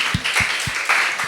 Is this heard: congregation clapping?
yes